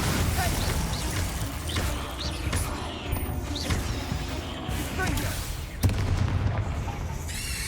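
A Glacius freezing spell cast in the video game Hogwarts Legacy, a booming crackly impact among muffled game effects and low rumble, with a voice speaking over it.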